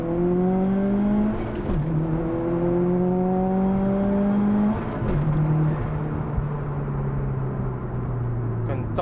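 A Subaru WRX STI rally car accelerates hard from inside the cabin, its engine whine climbing steadily in pitch, dropping at two gear shifts, then pulling again under a constant road rumble.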